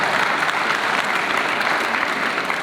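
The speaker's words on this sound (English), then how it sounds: "So I'd like to give a round of applause" Loud, sustained audience applause fills a fire department graduation ceremony in Bridgeport, a dense, steady wash of clapping from a large crowd with no break.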